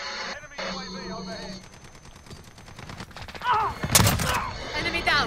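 Gunfire in a Call of Duty match, first a faint rattle and then a loud close burst of rapid shots near the end, with game sounds underneath.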